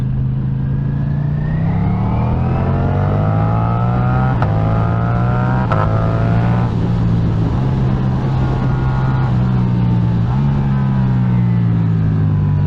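A 2023 Ducati V4 Diavel's V4 engine drones loud and close while riding, its pitch climbing steadily through the gears with brief dips at each shift, plus wind rush over the whole stretch.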